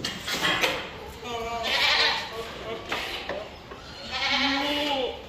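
Goats bleat on a goat farm, several wavering calls rising and falling among steady background noise, fairly close.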